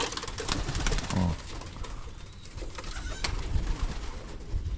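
Pigeons cooing inside a loft, low soft coos repeating over a busy background of rustling and movement, close and fairly loud, with faint voices at times.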